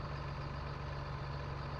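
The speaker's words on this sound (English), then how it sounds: "Sound of that lovely tractor." A JCB tractor engine idles in Farming Simulator 19, a faint, steady low hum and rumble with no variation over a couple of seconds and no voices.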